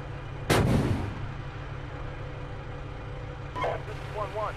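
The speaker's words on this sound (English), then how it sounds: "We're taking fire here." Gunfire crackles through a military video game: one loud, near blast rings out early, then a second, weaker burst follows later over a steady low rumble.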